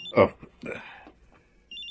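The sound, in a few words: cellphone ringing with incoming call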